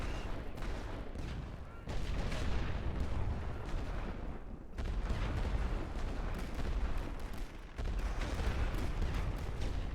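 Artillery gas-shell bombardment on a First World War Western Front battlefield in a strategy game: a dense, continuous roar of booming shell fire and blasts, loud and sustained, with brief dips in the barrage and no voices.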